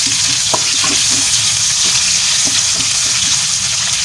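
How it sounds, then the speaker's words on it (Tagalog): Chopped onion drops onto browned garlic in a hot frying pan for sweet and sour chicken adobo, giving a loud, steady sizzle with a few soft stirring knocks. "Okay, the garlic is brown. You can put the onion."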